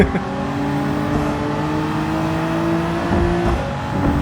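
A turbocharged car in the racing game Gran Turismo 7 holds a steady, droning engine note at high revs for about four seconds, loud and continuous, with faint tire noise and no talking.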